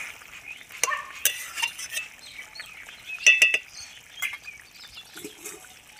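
A spoon stirs freshly ground garam masala into a soybean curry cooked with chicken scraps. Soft, scattered scrapes and clicks sound close but faint, with a light wet bubbling between them.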